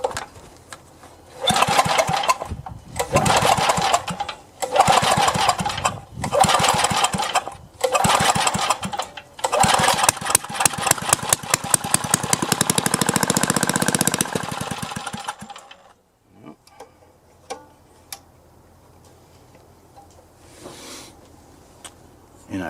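Craftsman gas edger with an Eager-1 engine, choke three-quarters on, sputtering through repeated start attempts in loud bursts, then catching into a rough, steady roar before cutting out into near silence with a faint voice.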